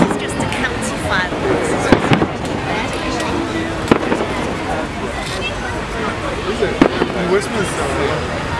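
Bonfire Night fireworks over Battersea Park in London in 2011 pop and crackle with occasional sharper bangs, heard from within a chattering outdoor crowd that keeps up a steady hubbub throughout.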